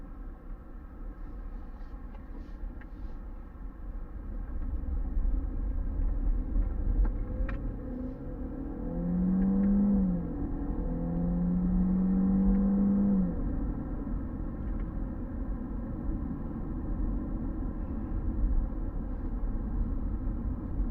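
Inside a 2017 Ford Fusion SE with the 1.5L engine, a steady low cabin rumble plays as the car drives. The engine note swells midway as it accelerates, then settles. No one speaks.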